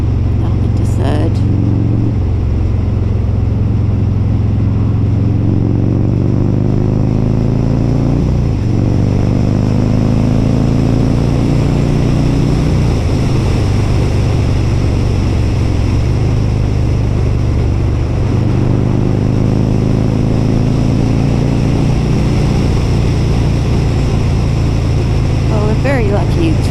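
A Harley-Davidson Road King motorcycle cruises in third gear on an open road, a loud, close engine drone with shifting pitch and brief gear changes, steady wind noise running through the whole ride.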